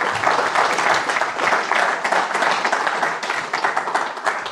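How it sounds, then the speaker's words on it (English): Applause from an audience at the close of a security talk, dense and fairly loud clapping sustained throughout with no pauses, an even crowd wash rather than distinct single claps. "Clap for Anne, please."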